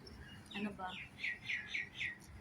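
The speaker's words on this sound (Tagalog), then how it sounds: "Kadalas na kumakain dyan, makikita ko mga maya" Sparrows chirp in a quick series of bright, short tweets, four or five evenly spaced calls close by, over faint background noise.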